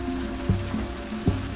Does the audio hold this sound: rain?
yes